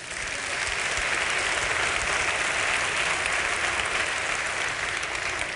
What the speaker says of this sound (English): You go ahead and clap.